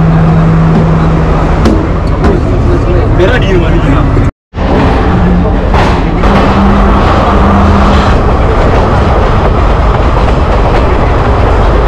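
Passenger train in Sri Lanka pulling away from a station, a steady loud rumble of wheels and carriage noise throughout, with a brief dropout partway and voices mixed in.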